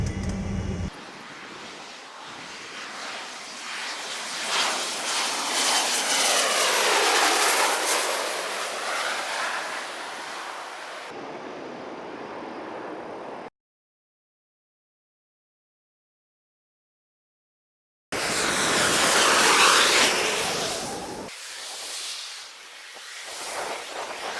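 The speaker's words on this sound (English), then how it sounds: "So we're on the plane now, ready to take off" A Malindo airliner takes off bound for Kuala Lumpur, heard from inside the cabin as a rising, rumbling engine roar that swells and fades, then drops out into silence before another loud roaring stretch returns.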